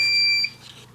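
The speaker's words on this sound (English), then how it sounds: "you heard that beep. It was reheating." A Spellbinders Glimmer hot foil machine gives a single short, clear high-pitched electronic beep while reheating, heard close and alone before fading into quiet room noise.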